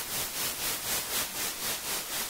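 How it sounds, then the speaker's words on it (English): Synthesized noise hissing across the whole range, swelling and dipping in a steady tremolo pulse about three times a second, with no voices. "all I'm doing in here is using all noise waveforms"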